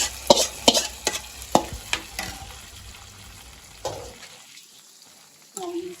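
Fried tempering is tipped into cooked dal. A series of sharp ladle taps and clinks is followed by a short, softer sizzle that fades to near silence, then a final clatter.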